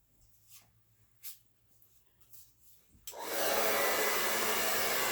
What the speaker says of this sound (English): I'm going to use the blow dryer for that so I can get a nice wide sweep.